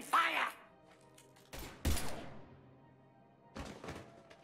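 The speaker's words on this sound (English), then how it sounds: "Now open fire!" Gunfire erupts during Mass Effect 3 video game combat, with several loud, sharp bursts heard up close: one burst near the start, two heavy hits mid-clip, and a final burst toward the end, separated by quieter game ambience.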